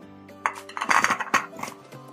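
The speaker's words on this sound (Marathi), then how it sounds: "तर हे धुवून घेतलेले शिंगाडे कुकरमध्ये घालायचे." Washed water chestnuts dropped into a metal pressure cooker in a home kitchen, a short flurry of hard clinks and knocks against the pot, close and clear, with no voice.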